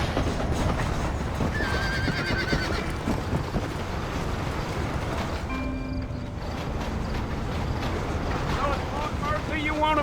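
A horse galloping and neighing in the Red Dead Redemption video game, with hooves pounding under wind noise, whinnies rising, and voices speaking over it.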